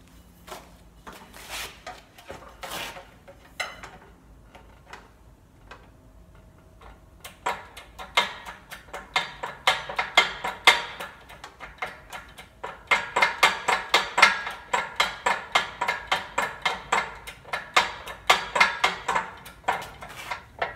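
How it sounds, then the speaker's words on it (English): An aluminum roof rib for a teardrop trailer is slowly bent in a press on a jig with wood underneath, giving irregular metallic clicks and ticks that thicken into a dense, steady patter partway through, with no talk. "I'm gonna try it in the press and see how it goes."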